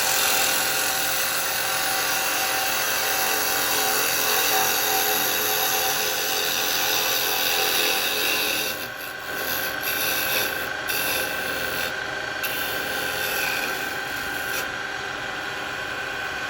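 A carbide tool makes a pass on a piece of firewood spinning on a woodturning lathe, giving a constant loud rasping whir with a brief dip partway through, with no talking.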